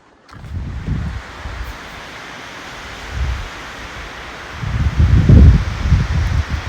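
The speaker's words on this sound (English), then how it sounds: "Wind sounds pretty strong up there." Strong wind blows on a mountain hiking trail in Kananaskis, Alberta, arriving as rough gusts that buffet the microphone, rising and falling, with the loudest rush near the end.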